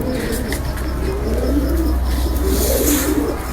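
Pigeons coo continuously in low rolling calls over a loud, steady background hum, with no talking.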